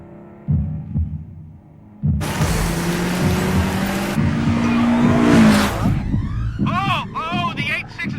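A Toyota AE86 race car charges into a hairpin without braking, its engine bursting in with a loud, sustained roar that climbs in pitch before sharp squealing tones cut through near the end.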